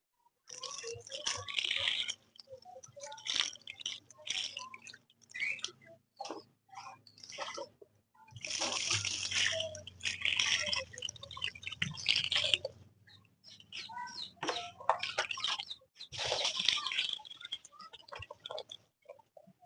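Water splashes and sprays onto pet rabbits kept in a cage, coming in irregular wet bursts of spattering and dripping, with louder sustained stretches between quieter pauses.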